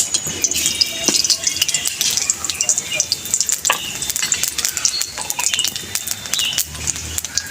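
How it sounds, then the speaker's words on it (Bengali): Nigella seeds tempering in hot mustard oil, a bright crackling sizzle with sharp spitting pops scattered across the whole stretch, fairly loud and close, with no talk over it. "সর্ষের তেল দেবো, ফোড়নে দেবো আমি কালো জিরে"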